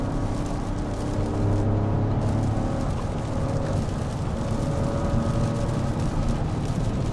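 A Toyota GR Corolla drives through curves on wet pavement, with dense road and tire spray noise and a low engine drone heard from inside the cabin, steady and loud throughout.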